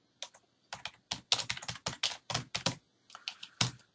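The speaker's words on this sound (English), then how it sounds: "here you can type the name you want" Close, quiet clicking of a computer keyboard as a file name is typed, a quick irregular run of distinct keystrokes with a short pause near the end.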